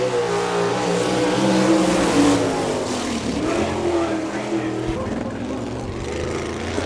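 A sprint race car on its first lap at Chillicothe Speedway in Ohio during an All Star Circuit of Champions event, engine roaring steadily and loud throughout with a commentator talking over it.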